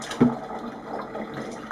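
Water is dumped out of a Vicks warm steam vaporizer during cleaning, a short splashing pour with a brief louder gush near the start, then a steady low wash of running liquid.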